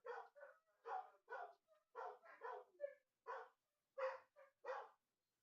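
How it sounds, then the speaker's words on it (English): Dogs bark outside a closed door in a string of sharp, evenly spaced yaps and woofs, about a dozen barks heard at a muffled distance with short gaps of silence between them. "I don't know if you can hear the dogs. I don't know why that's happening outside my door."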